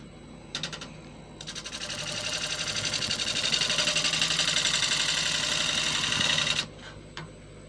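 A gouge cuts a fissured, resin-filled white oak blank spinning on a wood lathe, making a close, buzzing chatter as the tool bounces. The sound builds over several seconds and then stops abruptly, with short taps before and after.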